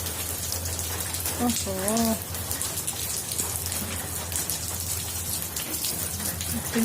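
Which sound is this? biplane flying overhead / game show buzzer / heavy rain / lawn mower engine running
heavy rain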